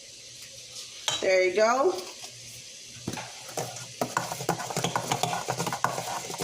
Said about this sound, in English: So I'm gonna go ahead and mix this up really good.